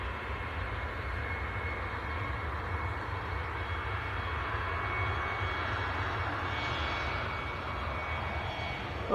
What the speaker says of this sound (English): Here it comes, KLM to Amsterdam.